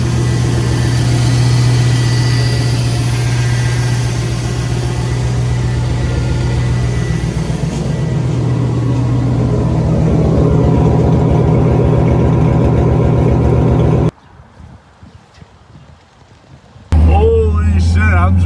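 A Chevrolet 5.3 LS V8 swapped into a one-ton Jeep XJ rumbles steadily while driving, loud and close, with a deep continuous drone before cutting out briefly near the end; a voice can be heard over it.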